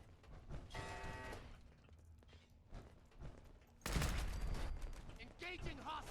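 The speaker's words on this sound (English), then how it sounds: "I'm trying to shoot baddies." Gunfire in Fallout 4 comes as a quick burst of rapid shots, then scattered weapon sounds and a loud crashing blast, over a low game background with a voice briefly heard.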